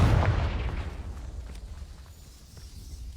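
A Confringo fire spell bursts in Hogwarts Legacy: one loud, deep blast at the start that rolls off into a long, rumbling decay with faint scattered crackles, and no voices.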